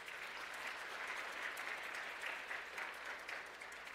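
A congregation claps together at a Christmas praise service in a church, a continuous even patter of many hands, moderately distant and soft, with no talk on top.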